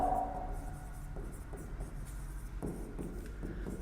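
A pen writes on a board or paper during a geometry lesson on isosceles triangle perimeter, a steady run of close, soft scratchy strokes and taps with no talk over it.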